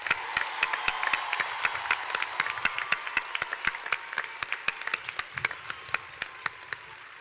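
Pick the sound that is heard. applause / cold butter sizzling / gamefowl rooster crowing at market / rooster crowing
applause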